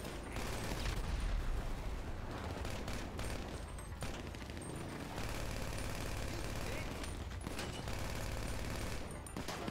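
Gunfire in GTA V Online: dense bursts of rapid shots and booms crackle almost nonstop, with voices talking over the din at times.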